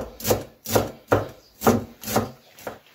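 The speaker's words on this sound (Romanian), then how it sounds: "am terminat de tocat mărunt, mărunt mărarul" Dill being finely chopped with a knife on a board: six evenly spaced, crisp chopping strokes in a steady rhythm, close and clear with no talk.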